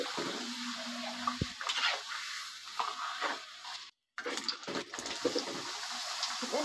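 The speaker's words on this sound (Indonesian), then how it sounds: "Kita goreng sampai selesai ya teman-teman." Cassava crackers, made from boiled and flattened cassava, frying in a pan with steady low sizzling, interrupted by brief stirring and clattering sounds and one short dropout.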